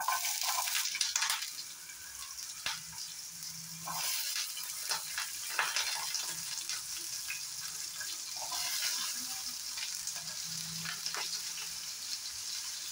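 Potatoes tipped into a hot pan on a gas flame for a traditional Bengali dish with malabar spinach leaves, frying with a steady broadband sizzle and a few sharper crackles and clinks, close up and without talk.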